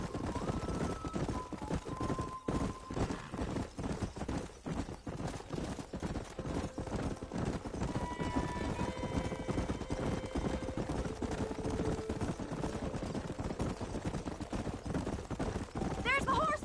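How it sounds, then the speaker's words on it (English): Horses in Red Dead Redemption gallop with a continuous rhythmic clip-clop of hooves over a busy game soundscape, with whinnies rising above the hoofbeats and brief musical tones in the mix. "There's the horses!"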